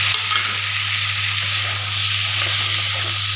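Ridge gourd pieces go into a pan of cooked-down spices for a Bengali fish curry, giving a steady, close frying sizzle and hiss that holds evenly throughout with no talk over it.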